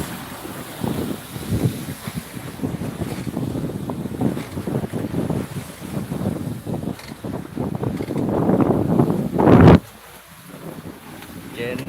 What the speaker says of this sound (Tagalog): Sugaong kami at narito yung isda sa unahan. Sugaong yung bangka. Kaya pasalok-salok yung tubig.